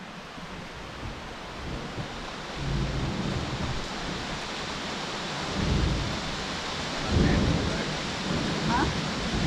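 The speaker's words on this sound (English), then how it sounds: "there was this incredible thunderstorm overnight" Overnight thunderstorm heard from a porch of a remote cabin, with steady rain hiss and low rolling thunder swelling several times through the clip, fairly loud and continuous.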